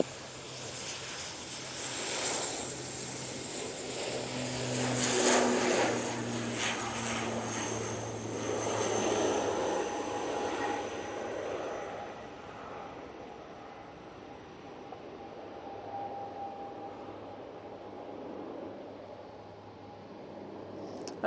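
An Aer Lingus turboprop airliner rolls for takeoff at Manchester bound for Belfast, its propeller drone surging loud at first, then fading steadily into the distance as it climbs away.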